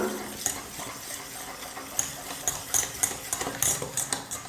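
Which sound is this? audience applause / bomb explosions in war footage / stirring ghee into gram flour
stirring ghee into gram flour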